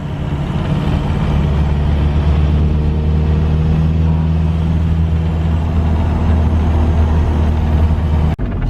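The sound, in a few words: Toyota with TDI diesel swap driving, clutch slipping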